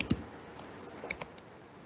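A computer keyboard used to type C code in an online compiler, heard as a few scattered, quiet keystrokes and clicks over a faint background hiss.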